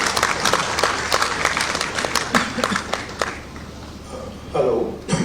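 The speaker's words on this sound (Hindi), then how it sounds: "एक बार तालियों के अनुरोध से इनका अभिवादन कीजिए।" An audience applauds at an MoU signing ceremony at the Jharkhand ministry: dense, steady clapping for about three seconds, then thinning out as a voice begins near the end.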